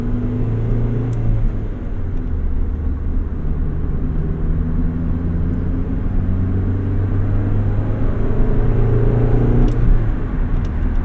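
1991 Honda Civic Si EF hatch without VTEC at full throttle, a steady loud engine drone with rising and falling tones heard from inside the car, no talking.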